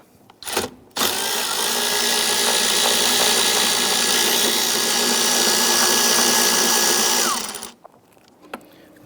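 A ratchet with a short extension backs out a 10mm bolt behind the strut tower on a 2011–2021 Jeep Grand Cherokee 3.6L V6. A loud, close, steady mechanical whir runs unbroken for about six seconds, then winds down.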